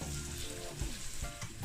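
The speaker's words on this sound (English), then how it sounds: "I crush them a little bit so I can burn them in the oil a little bit" Crushed ginger and garlic fry in hot oil with a close, steady crackling sizzle, interrupted by a couple of soft stirring or shifting sounds.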